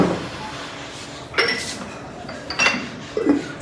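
Large glass jars being shifted and set down on a terrace shelf, giving several separate clinks and knocks against a quiet room background.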